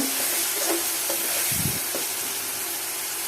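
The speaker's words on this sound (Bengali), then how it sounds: "আমি এখন কষাবো দেখেন আমার তেলটা শুকিয়ে তো উপরে চলে আসছে" Spices frying in oil in a pan for a radish, potato and eggplant curry with dried fish: a loud, steady hissing sizzle with a few light knocks of a spoon against the pan, no voices.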